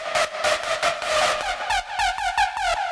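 Hardstyle techno synth patch built from two detuned wavetable layers, playing a rapid run of bright, buzzy stabs with rhythmic gating and pitch movement, loud and alone without voices.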